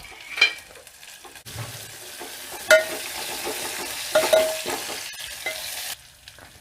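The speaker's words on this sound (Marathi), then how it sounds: "आता आपण टाकूया कढीपत्ता." Curry leaves hitting hot oil for dahi kadhi, a bright broadband sizzle that flares in sudden bursts with a few sharp crackles and spatters, close and loud throughout before abruptly dropping away at the end.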